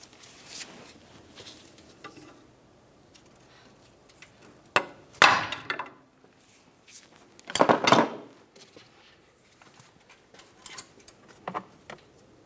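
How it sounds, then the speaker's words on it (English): A pry bar and hammer work at a single-use steering rack bellows boot clamp on a 2011-2019 Ford Explorer, sharp metallic clanks and scraping in a few loud bursts separated by quiet handling, with no talk. "To remove this clamp, we'll use the pry bar and a hammer, and we're going to break it free."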